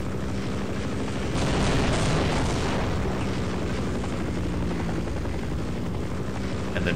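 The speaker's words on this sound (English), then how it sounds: "And then once again, wait for the chopper to pass by on the left side." A helicopter in the video game Half-Life roars loudly and steadily overhead as it passes by, with a dense, rumbling rotor wash that swells slightly near the two-second mark and stays strong throughout.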